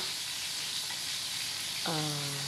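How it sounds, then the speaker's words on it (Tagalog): Mung beans sautéing with garlic and onion in a pan give a steady, close sizzle of frying, with a brief tonal squeak near the end. "Ginisa ko na po ito sa bawang sibuyas."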